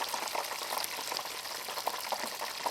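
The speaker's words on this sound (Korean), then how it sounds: "버섯을 튀기는데 저런 소리가 날 수가 있구나" Mushrooms deep-frying in hot oil give a steady, dense crackle and hiss, like heavy rain, continuous and moderately quiet throughout.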